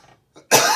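A single loud, harsh cough bursts out close by after a couple of faint breathy sounds, then rasps on for the rest of the moment.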